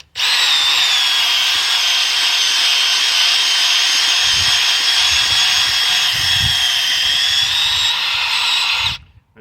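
A 1/2 inch power drill running steadily in high gear while reaming pipe, a loud, close, continuous whine that stops abruptly near the end.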